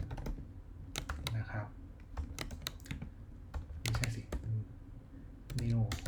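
Clacking keystrokes on a computer keyboard come in short bursts and clusters, close and fairly quiet, while someone speaks intermittently between them.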